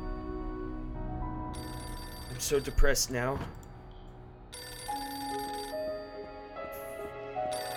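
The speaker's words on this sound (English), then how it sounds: "Fucking phone!" A telephone rings in bursts of bell-like tones, loud and close, alternating with a stretch of speech in the middle.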